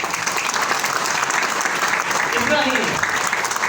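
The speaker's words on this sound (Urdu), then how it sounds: "آپ سب کے پرجوش استقبال تالیوں کے ساتھ" Sustained applause from a conference audience, dense and steady throughout at a fairly loud level, with some voices and crowd noise mixed underneath.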